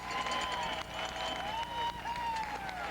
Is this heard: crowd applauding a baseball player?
yes